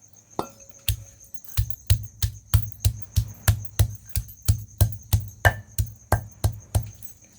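Garlic and green chili being pounded by hand for a coconut chutney, a steady run of about fifteen sharp, evenly spaced thuds, close and fairly loud, with a faint high insect-like whine in the background.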